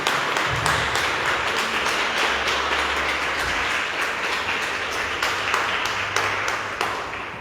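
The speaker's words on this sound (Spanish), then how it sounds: "Vamos a darle un fuerte aplauso a Jesucristo." Church congregation applauding after a prayer, a dense steady wash of many hands clapping that holds for several seconds at moderate level with no speech over it.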